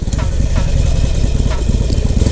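A motorcycle engine starting and settling into a loud, steady idle close by, its rumble continuous throughout with no talk over it.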